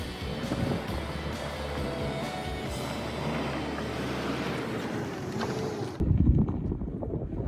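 A boat pulling away from shore at a campground on an overnight backpacking trip, its engine droning steadily under wind and water noise, then the sound changes to close buffeting wind.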